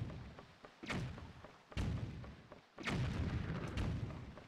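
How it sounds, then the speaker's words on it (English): Cannons fire in the video game The Legend of Zelda: The Wind Waker HD: three or four deep booming shots, fairly quiet, each with a short rumbling tail. "There are so many cannons shooting at me right now."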